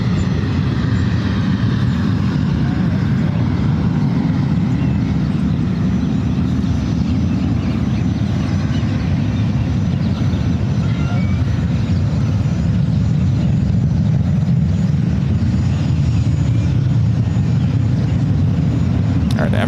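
An Emirates jet taxiing at San Francisco airport gives off a loud, steady low engine rumble that keeps up throughout, with a voice talking faintly beneath it.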